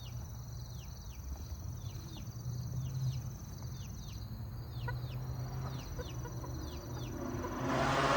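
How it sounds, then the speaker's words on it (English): Chickens clucking in a coop, repeated short calls at a steady rhythm over a low background hum, fairly close and moderately loud, with no talk. "You can hear we have some chicks back there."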